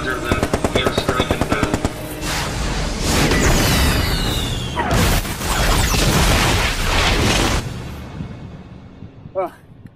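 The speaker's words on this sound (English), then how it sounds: "That airstrike sure did them in." Airstrike explosions from a Vietnam War scene: a burst of rapid gunfire gives way to heavy booming blasts and sustained rumbling, loud and close, before fading into quieter debris and a short final crack.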